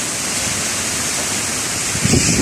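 Heavy rain pours down in Keşan's Beyköy as a dense, loud, steady hiss that fills the short recording, with a slight swell of splashing toward the end.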